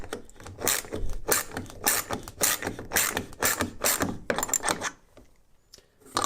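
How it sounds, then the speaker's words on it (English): A wrench drives a threaded insert down into a chamfered hole in a jig, giving repeated ratcheting mechanical clicks and scrapes in quick bursts, fairly close, then falling quiet near the end. "you just use the wrench to drive it down while putting pressure"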